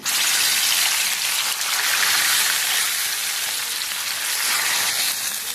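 Loud, steady sizzling of onion and spices tempering in hot oil for Udupi-style amaranth sambar, a continuous crackling hiss with no pauses.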